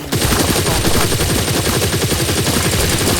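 Sustained automatic assault rifle fire in the sci-fi shooter Firefall, a loud, dense stream of rapid shots running continuously with no pauses and no talk.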